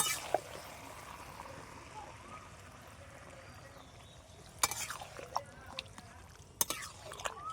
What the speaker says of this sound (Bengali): এবার আমি জলটা দিয়ে দেবো বেশি জল দেবো না পরিমাণ মতন দেবো